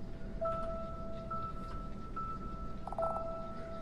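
A cell phone dials in the horror video game Cat in the Box: a short series of steady electronic dialing tones, evenly spaced and moderately loud over a low background hum.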